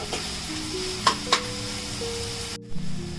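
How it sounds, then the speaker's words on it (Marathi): A finely chopped onion and tomato masala mixture for prawn masala sizzles steadily in the pan, a constant close frying hiss broken by two quick clinks of utensils and a short stirring scrape near the end. "2 मध्यम आकाराचे बारीक चिरलेला टोमॅटो घेतला आहे। हे मिश्रण मऊ होईपर्यंत चांगलं शिजवून घ्यायचं आहे।"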